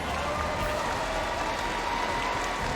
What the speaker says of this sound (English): give ONIC a big round of applause.